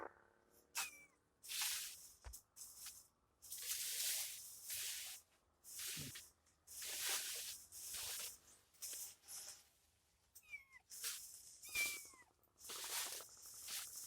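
A cat meows a few times between bursts of breathy, rustling noise, with no one talking.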